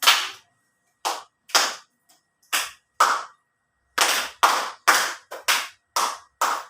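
A classroom of students claps the rhythmic Indonesian 'tepuk semangat' cheer: about a dozen sharp, close hand claps in short separated bursts and groups, with silence between them and no talking.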